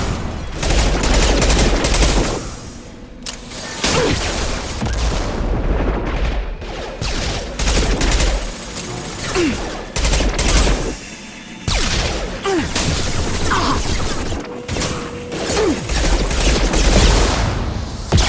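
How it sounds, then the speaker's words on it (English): Sustained heavy gunfire from a Mass Effect 2 combat mission roars continuously at close range, with dense rapid bursts and booming impacts that barely pause, loud and alone without voices. "Heavy fire!"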